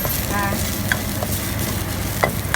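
Garlic frying in a little oil for stir-fried canned fish with holy basil, a close busy sizzle with a few sharp crackles and pops over a continuous frying hiss.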